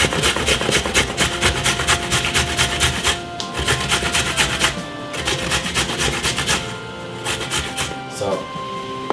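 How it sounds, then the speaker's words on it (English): A carrot being grated by hand for Jamaican homemade coleslaw, with fast rhythmic rasping strokes that run close and loud throughout, pausing briefly twice. "Then next, I'm gonna grate the carrot."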